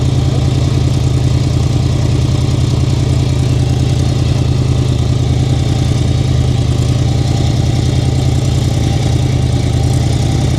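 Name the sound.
Can-Am off-road vehicle engine running, sounds like a boat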